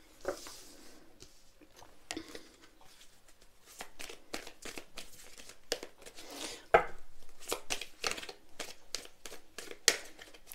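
Tarot cards being cut and shuffled by hand, with a steady run of soft papery flicks, riffles and taps, fairly close and quiet, without any talk.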